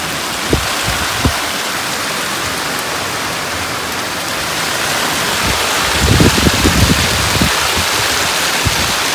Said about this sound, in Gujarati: ફટાફટ વરસાદ સારો પડે છે